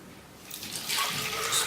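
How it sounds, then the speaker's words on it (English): Water splashes into the bottom half of a cut plastic bottle being made into a homemade mosquito trap. After a brief quiet start, the splashy pour rises and grows louder, close by and without talk. "Just put the water."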